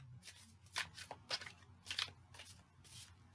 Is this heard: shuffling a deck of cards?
yes